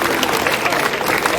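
Audience applause and crowd noise for a hill climb class winner at a 2025 podium ceremony at Turckheim-Trois Epis, a steady dense wash of clapping lasting throughout, with some voices mixed in.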